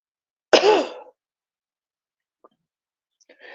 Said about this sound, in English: I don't know why I started coughing.